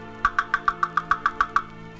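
A woodpecker knocks about ten sharp, evenly spaced raps in quick succession, crisp and close, then stops.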